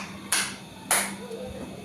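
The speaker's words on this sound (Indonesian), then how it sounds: "tepuk tangan 3 kali" Hands clap two sharp, close claps about half a second apart against a quiet room hum, with a faint voice underneath.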